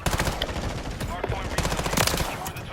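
Rapid automatic gunfire from an anime-style gun in Call of Duty Modern Warfare III, a dense, continuous burst of shots that rattles steadily throughout, loud and close with overlapping game effects.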